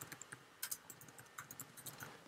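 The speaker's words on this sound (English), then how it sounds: "And if I type in employment law," Quiet, irregular clicking of keys as a search is typed on a computer keyboard, with a few faster bursts of keystrokes and no voices.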